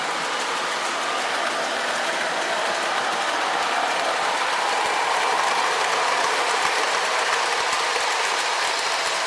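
An O-gauge model train, the 050 switcher crane, runs along the track with a steady mechanical whir and fine clicking gear noise, continuous and close, with no talk.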